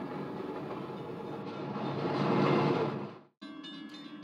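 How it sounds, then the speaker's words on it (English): Williams by Bachmann model train running with a string of freight cars, a steady close rumble that swells louder, then cuts out briefly before resuming with a thinner mechanical hum. "I'll be showing you Williams by Bachmann operating freight cars."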